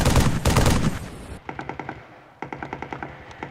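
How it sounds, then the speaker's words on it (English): Loud, dense bursts of automatic gunfire up close in the video game Halo 3, then two rhythmic runs of sharp, evenly spaced shots with short pauses between. "beefy gunfire being fired next to me"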